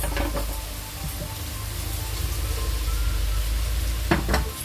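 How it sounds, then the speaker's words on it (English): Carrots drop into a hot soup pot for a spiced vegetable soup, and a steady, loud sizzle fills the whole stretch. Brief clattering stirs come in near the start and again close to the end. "So now we're going to add in our carrots."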